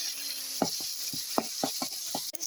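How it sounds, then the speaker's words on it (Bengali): Ground shrimp paste hitting hot oil with fried onion in a pan, giving a steady low sizzle punctuated by sharp scraping clicks of stirring at irregular intervals, close and fairly quiet. "পেঁয়াজটা ভাজা ভাজা হয়ে গেছে, এখন আমি দিব বেটে রাখা চিংড়ি মাছগুলো।"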